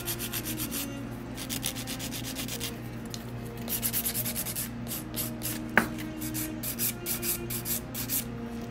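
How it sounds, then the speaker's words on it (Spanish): A nail file buffs fingernails in quick, steady back-and-forth strokes, close and scratchy, with a brief sharper tap partway through. "Voy a pulir y regresamos."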